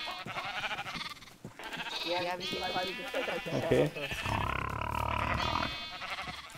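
Sheep bleating in Minecraft, a flock's repeated wavering bleats overlapping one another, close and loud, with someone speaking briefly among them.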